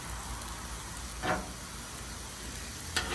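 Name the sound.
jambalaya pasta ingredients sizzling on a griddle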